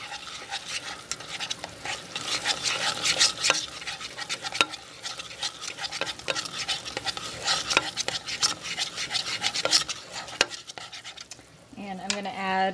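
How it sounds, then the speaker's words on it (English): Goldfish gel food mixture being stirred in a pan over medium heat, with steady scraping and clinking of a utensil against the pan throughout, a soft sizzle underneath, and a brief tonal sound at the very end. "I'm going to mix that up, and you'll see it thickens almost right away."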